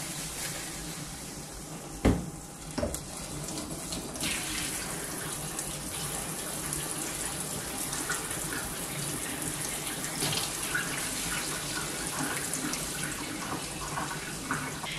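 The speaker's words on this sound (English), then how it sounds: "now it's time to take it out of the pot and give it a really good rinse in warm water" Tap water runs steadily into a sink while wool yarn is rinsed in warm water after alum mordanting, a continuous soft rushing stream with a couple of sharp knocks early on, fairly quiet and with no talking.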